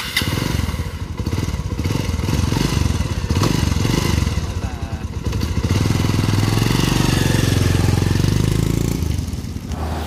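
A second-hand motorbike is ridden on a road toward a village before Pasighat. Its engine drones loud and close the whole time, with the pitch rising and falling as the rider speeds up and eases off.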